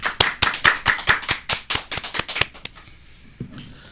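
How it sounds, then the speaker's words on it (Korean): Applause in a studio welcoming a guest: a steady burst of sharp, close claps for about two and a half seconds, then quickly fading out into near silence. "큰 박수로 환영해 주십시오."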